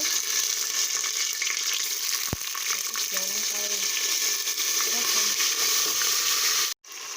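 Green chili goes into a pan of Indian vegetarian spices frying in oil, giving a loud, steady sizzle across the whole stretch, with faint stirring scrapes and a brief clatter near the end.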